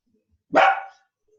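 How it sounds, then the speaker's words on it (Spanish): A single loud dog bark rings out close by, short and sharp, against an otherwise quiet background. "Anda a ladrar allá afuera."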